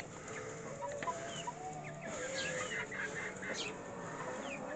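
Silkie chickens cluck and murmur softly in a coop, overlapping low calls and a few brief higher chirps over a steady background.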